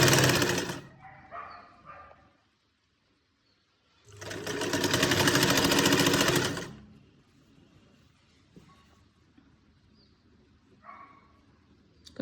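A sewing machine runs in two bursts while stitching a sleeve onto a kameez: a short run at the start, then a longer steady whir lasting a couple of seconds, with quiet handling between and after.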